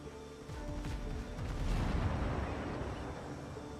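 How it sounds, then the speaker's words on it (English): A distant explosion in the video game Windrose, a low, muffled rumble that swells and slowly fades over a few seconds, quiet and far off with no voices over it. "that sounded like an explosion."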